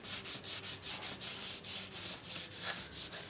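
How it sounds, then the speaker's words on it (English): A small piece of cloth rubs back and forth over a freshly painted part of a 40-year-old Yamaha RXZ trail bike to raise a flake effect, making about ten quick, even, close scrubbing strokes. "all I do is I take a little bit of cloth, just rub here"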